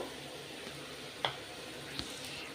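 Masala paste with salt, turmeric, Kashmiri chilli powder and chopped tomato sizzles quietly in a pan, a soft continuous frying hiss with a couple of small clicks from stirring.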